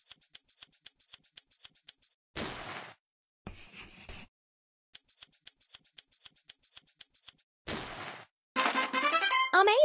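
Scissors in a sewing game for dress-up fashion snip fabric in quick rhythmic runs of crisp clicks, broken by short swishy cuts and a rising chime-like effect at the end.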